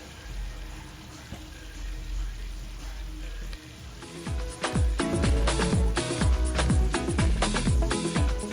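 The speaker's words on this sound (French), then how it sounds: "Faites frire le poisson jusqu'à ce qu'il ait une belle couleur brune." Pieces of tilapia fish fry in hot oil for a Ghanaian tomato fish sauce. A low hum gives way to dense, crackling sizzle with many quick pops, fairly close and steady.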